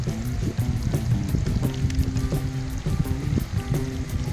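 Wild boar meat curry simmering in a pot over a fire outdoors at dusk, with a steady low bubbling and sizzle running throughout, fairly close, with occasional small clinks and pops.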